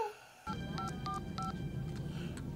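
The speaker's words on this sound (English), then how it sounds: "He's calling John." A sequence of telephone keypad tones from a scene in the movie Die Hard 2, about six short evenly spaced beeps over a steady background hum, clear and moderately quiet.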